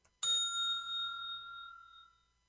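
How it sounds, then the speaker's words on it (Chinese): One bright bell ding, recorded on a phone for use as a timing ringtone, strikes sharply and then rings out with a long, clean, fading tone lasting about two seconds, alone in silence. "那接下来呢，我要拉的就是我们的铃声"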